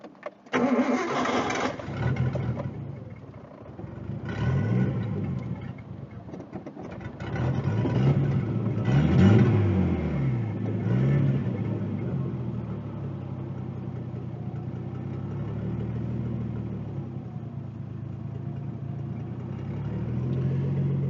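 A Nissan 240SX S13 engine cranks and catches, then settles into a steady idle that wavers slightly in pitch while hot, close by with no talking.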